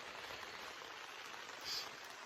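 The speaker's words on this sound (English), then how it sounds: "It has been raining since about when we went to bed." Steady rain pattering on a tent in a socked-in backcountry camp during a bighorn sheep hunt, a continuous soft even hiss with no voices.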